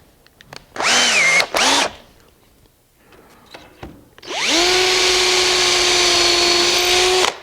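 A small 3/16 drill bit boring a hole in a woodworking shop: two short drill bursts whine up and stop, then after a quiet pause a longer, loud steady run of the drill, close and with no talk.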